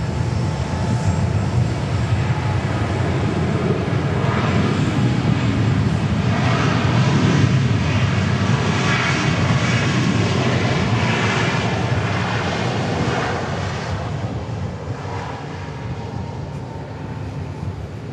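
A Southwest Airlines jet takes off at Dallas Love Field, its engines a loud, sustained roar that swells toward the middle and holds steady, close and alone without voices.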